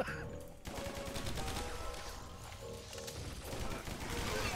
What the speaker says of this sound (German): Oh, scheiße, Selbstschussanlage, Achtung!